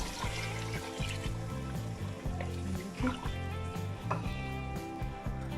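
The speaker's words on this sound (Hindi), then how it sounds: "2 से 3 कप पानी में डाल रही हूँ" Two to three cups of water are poured into a pot of chicken and potato curry, giving a gentle, steady splashing trickle at close range, with a low background hum underneath.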